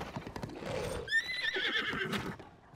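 A horse in the video game Zelda: Tears of the Kingdom whinnies loudly with a rising, shrill neigh over steady clip-clopping hooves and game background sounds.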